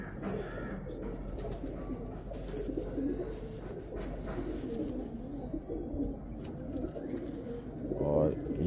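Pigeons coo softly and repeatedly nearby, a low, rolling murmur that continues under someone talking at length.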